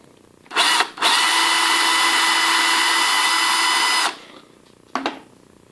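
A power drill whirs in a brief burst while driving a screw into leather, then runs steadily for about three seconds before stopping, followed by another short spin.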